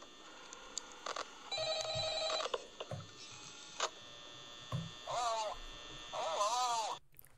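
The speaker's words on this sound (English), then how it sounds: "FNAF 1 phone calls are obviously going to be the same" Phone ringing in the Nintendo Switch version of Five Nights at Freddy's 1, heard as repeated electronic trilling rings in short bursts against a steady hum and scattered game noises.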